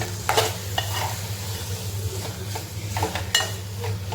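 A spoon scrapes and clatters through a dried fish mixture in a sizzling frying pan, sounding a few distinct strokes over a continuous close hiss of oil, with no one speaking.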